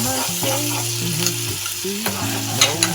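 Coconut pieces fry with ginger-garlic paste in a pan, making a steady hissing sizzle with occasional pops, while a low melodic tone runs underneath.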